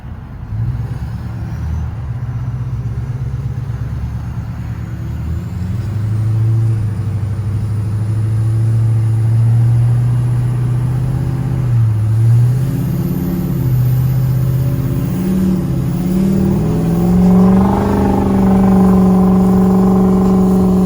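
A truck that has trouble starting cranks, catches and runs as a loud, low rumbling engine that swells and revs higher toward the end, close by and without talk.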